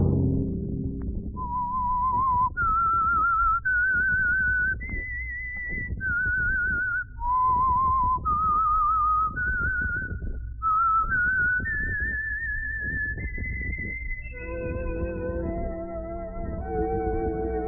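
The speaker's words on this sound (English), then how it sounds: "Let that whistle be your signal for the Signal Oil program, The Whistler" A lone whistler carries the theme melody of a radio mystery program, a clear rising and falling tune of sustained notes over a faint low backing, swelling toward a fuller orchestral close.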